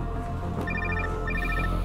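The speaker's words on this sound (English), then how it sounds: "Pick up the phone" A telephone rings in a tense indoor scene, short bursts of electronic trilling repeating twice, fairly clear over a low background hum with no talking.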